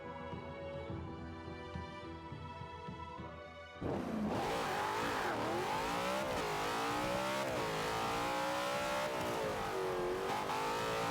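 Race car engine in the Forza racing game, screaming at high revs with rising and falling pitch through gear shifts, loud and continuous after a sudden jump in intensity partway through.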